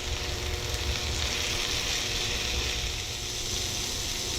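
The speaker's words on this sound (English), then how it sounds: "So I'll just saute this for a while until it's done" Chicken, mushrooms, zucchini and onions sauteing in a pan outdoors, giving a steady, loud, continuous sizzle and crackle from start to finish with no one talking.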